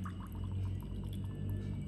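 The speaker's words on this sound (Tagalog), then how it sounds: "So, ito, lagyan na natin tubig na mainit." Hot water pours steadily into powdered milk in a cup or container, a soft continuous trickling wash heard up close and fairly quiet, with no talk.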